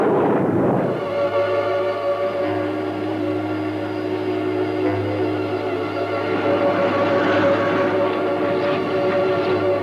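Thunderbirds monorail train running, a steady loud mechanical drone with a sustained tonal whine throughout, after a brief louder burst at the start.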